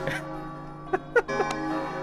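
Bell ringing in Kingdom Hearts Re:Chain of Memories, a few bright struck chimes sounding one after another over a sustained musical backdrop, moderately loud.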